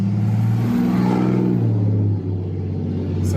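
A vehicle engine drones and labors steadily at low revs while towing a boat, a heavy rumbling hum with a slight pitch dip partway through.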